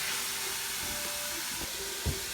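Onions and garlic simmer in a saucepan, a steady close hiss and sizzle with a few soft pops and stirring knocks toward the end.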